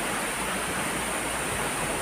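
Tumalog Falls waterfall rushing as a dense, steady roar of falling water, loud and close, filling the whole moment with no voices over it.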